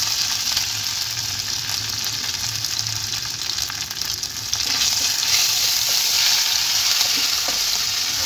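Grated ginger fries with cauliflower in hot oil, giving a loud, steady sizzle with occasional stirring clatter; the hiss swells a little stronger partway through.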